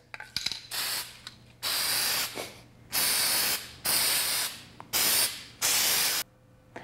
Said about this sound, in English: You might find it easiest to spray prime your chairs.